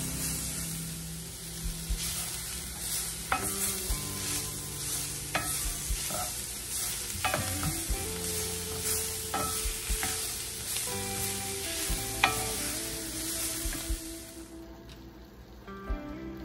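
Onions and other vegetables stir-fry in a pan for a steak stir fry, giving a continuous close sizzle broken by repeated scrapes and stirring knocks, with no talking.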